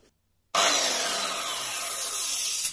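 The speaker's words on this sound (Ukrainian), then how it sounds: "Зараз спробую запуск такої дискової пили потужністю 1600 Вт заявлено." A 1600 W circular saw starts abruptly after a brief silence and runs at a loud, steady whine with a high-pitched buzz for the rest of the clip.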